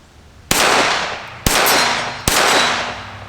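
Three loud gunshots from a Sig Sauer P322 pistol fired outdoors at a target about 35 yards away, each a sharp crack followed by a long ringing decay, spaced roughly a second apart.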